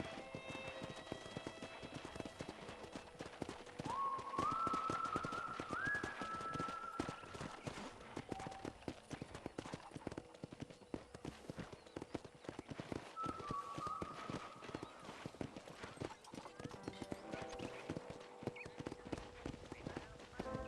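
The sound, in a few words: horse hooves clip-clop in a video game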